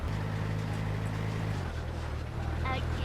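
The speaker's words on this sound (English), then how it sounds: "I am going to get my vehicle." A vehicle in the video game Once Human drives along with a steady low engine hum and rushing wind-like noise, the engine tone dropping slightly partway through while a voice speaks briefly over it.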